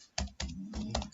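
Typing on a computer keyboard gives a few quick, soft key clicks in an uneven rhythm, close and quiet, with no talk.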